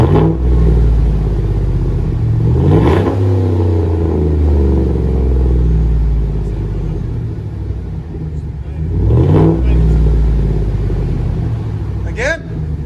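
A 2016 Chevy Silverado Z71 with a 5.3L V8 and single straight-pipe exhaust idles with a deep, loud rumble, then is revved twice in sharp bursts, close by, with people talking around it.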